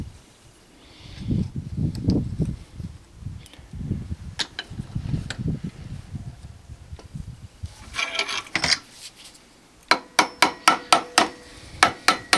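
Sharp metallic hammer strikes ring out on a Jeep door hinge while a bushing is driven in, scattered taps early then a rapid, loud series of evenly spaced blows at the end, with some low handling noise between.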